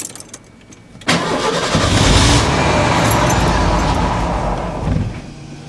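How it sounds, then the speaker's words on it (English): A 1991 Ford F-150 XLT Lariat engine cranks and catches after about a second, then settles into a loud, steady, slightly uneven idle up close. "fire it up and you guys can hear it run while it warms up for a little bit"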